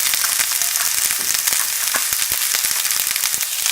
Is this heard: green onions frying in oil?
yes